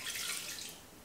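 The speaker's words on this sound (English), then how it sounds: "Oh, that just spilled everywhere." Water spills and splashes while cooking with a Thermomix TM6 after 500 grams of water is measured. It is a brief, continuous hissing splash lasting about a second, close by, with no talking.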